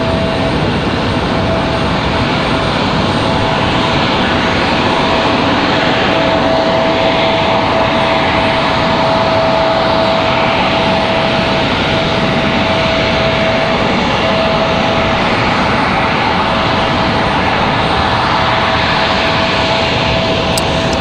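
A JetBlue jet aircraft at Raleigh Durham International Airport, its engines producing a loud, steady roar with a constant whine that fills the whole stretch without letup.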